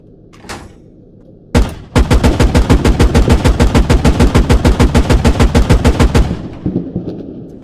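Warrior armoured vehicle's 40mm cannon in the Squad video game firing a long rapid burst of loud, evenly spaced booming shots for several seconds, preceded by a couple of single blasts and followed by fading echoes.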